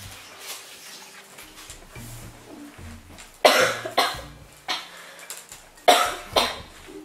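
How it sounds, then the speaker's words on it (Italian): A woman coughing in a home kitchen while chocolate biscuits are made: a few scattered bursts of coughs, sharp and close, over quiet background with faint clatter. "Quella che sentite tossire"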